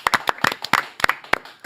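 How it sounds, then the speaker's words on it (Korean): Audience applause greeting Democratic Party lawmaker Park Ju-min as he arrives on a Korean talk show set; a short burst of sharp, uneven claps from a small group, close and fairly loud. "박수로 맞이합니다"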